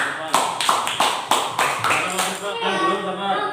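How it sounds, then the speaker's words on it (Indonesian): Classroom applause for classmates during a lesson, a burst of many hands clapping together in quick overlapping claps, fairly close and lively, with children's voices mixed in toward the end. "tepuk tangan dulu buat teman-teman"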